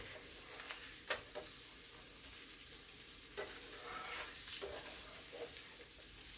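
Sausage and potatoes fry in a pan for a breakfast stir-fry, a quiet steady sizzle with scattered small pops and a couple of faint utensil taps.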